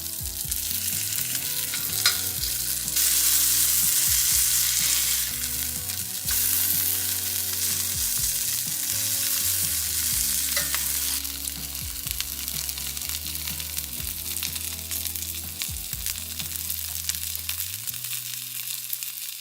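Food fries in a skillet until golden brown, giving a loud, continuous sizzling hiss that lasts the whole time, with steady tonal music playing beneath it.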